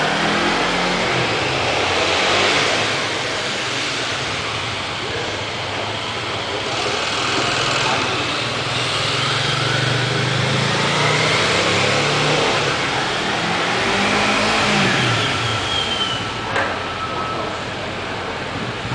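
A motorcycle engine runs throughout a braking demonstration at a motorcycle show, a continuous mid-pitched drone with gentle swells in revs, fairly close and loud with no speech over it.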